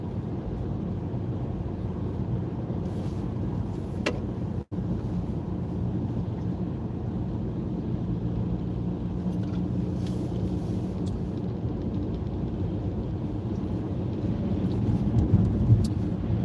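Car tires rolling through snow and slush at about 35 mph during a snowstorm, a steady close broadband rumble and hiss that holds throughout and swells slightly near the end, with no talking.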